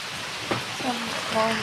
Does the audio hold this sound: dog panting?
no